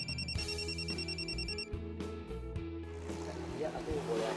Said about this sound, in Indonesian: Ya, aku boleh angkat telepon bentar.